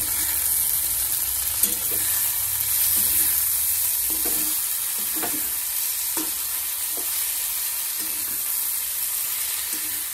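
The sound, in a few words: frying and stirring potato and pointed gourd curry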